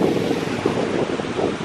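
Steady wind roaring across the microphone with a broad, continuous rush, like gusts by open water, loud and unbroken throughout.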